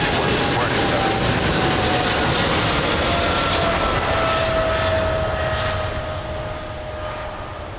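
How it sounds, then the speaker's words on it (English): A Boeing 777 taking off at Lisbon Airport, heard as a loud, continuous jet engine roar with a droning whine that slowly fades toward the end, with radio chatter or talk faintly beneath. "after the Boeing 777 taking off"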